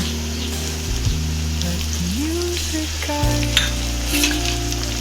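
Onions and potatoes fry in a pan with a constant close sizzle and occasional stirring scrapes, over a faint tonal background.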